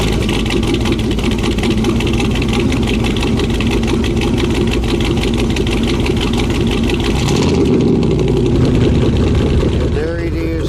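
A vehicle engine fitted with a new exhaust idles steadily and loudly close by, its low rumble continuing throughout with a shift in tone near the end.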